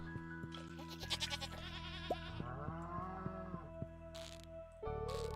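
A sheep bleats in the farming game Stardew Valley Expanded, a short wavering call over steady background game music, fairly faint and without talking.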